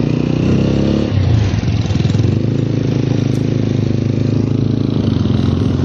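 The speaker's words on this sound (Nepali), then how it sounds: "गाइजहरुको बाइक अगाडि लागिसक्यो" Motorcycle riding along a forest road, a loud steady engine drone with wind rumble close to the microphone, no voices.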